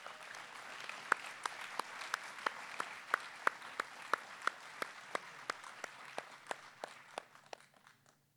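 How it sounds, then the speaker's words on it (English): A hall of fame sports ceremony audience gives a round of applause, heard as a run of sharp, evenly spaced single claps over a low room murmur that thins and fades out toward the end. "Let's give a big round of applause for Marc Matock."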